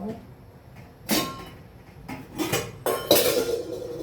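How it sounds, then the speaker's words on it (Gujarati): Cooked urad dal is transferred into a pot in a home kitchen, with a few sharp metal clanks and clinks of utensil on vessel between quieter stretches. "આપણે દાળ તપેલીમાં કાઢી લઈશું."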